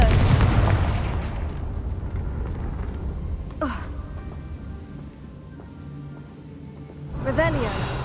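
A Confringo blasting spell goes off in the video game Hogwarts Legacy as a loud, booming burst at the start, then rumbles away, followed by two softer whooshing effects later.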